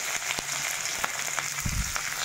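Onion and green chilli sizzle in hot oil, a steady, moderately loud crackling hiss with a few soft clicks and a brief low thump near the end.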